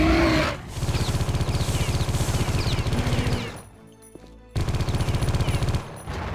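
Rapid automatic gunfire in a shooter video game, loud continuous bursts of fast rhythmic shots that break off briefly in the middle, then resume.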